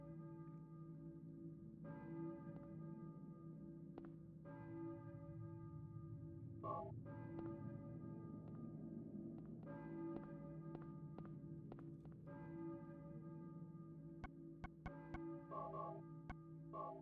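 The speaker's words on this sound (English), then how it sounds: "I hear a church bell, maybe." A church bell tolling in Silent Hill, faint and distant, its strokes repeating at a slow regular pace over a low ambient drone, with a few scattered soft thumps toward the end.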